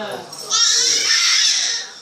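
A child bawls loudly in one long, sustained wail after a few seconds of speech, the crying rising abruptly and holding before tapering off.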